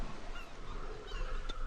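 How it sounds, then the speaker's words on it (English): Ambient video game soundscape of a beach setting, with faint bird calls drifting through a steady wash of moving water and background noise, the birds brief and distant. "There you go, some birds in the background."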